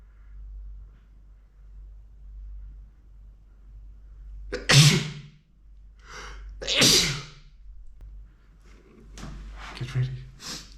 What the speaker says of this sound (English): Get ready. I'm gonna sneeze. I'm gonna sneeze.